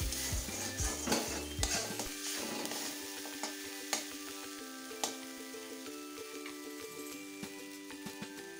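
Spice paste with salt and red chilli powder frying in a pan for egg curry, a soft continuous sizzle with occasional scrapes of a spoon stirring against the pan, fairly quiet and without talk.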